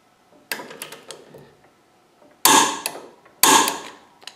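A wrench torques the top ball joint on the front suspension of a 1987 Olds 442, giving a few light ratcheting clicks and then two loud, sharp creaking pulls, each about a second long, close by with no talk.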